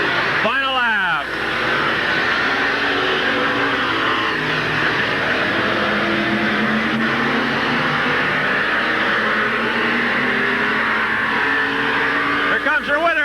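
Late model race cars roar around Midvale Speedway on the final lap, a steady loud engine drone with cars passing close near the start and end, under continuous announcer talk.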